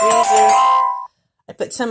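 A phone gives off an electronic alert, one steady ringing tone lasting about a second, followed by a short silence and then a person talking.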